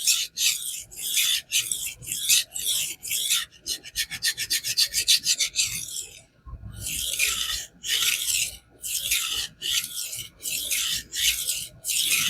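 A knife blade is stroked across a King 300 grit whetstone, producing steady rasping scrapes in a regular back-and-forth rhythm, with a quick burst of shorter strokes midway; close and fairly loud, with no talking.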